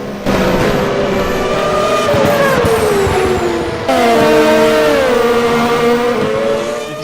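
Race car engine in the Automobilista racing game, revving loudly with rising and falling pitch through gear changes and a sharp downshift midway, with no tire skid clearly standing out.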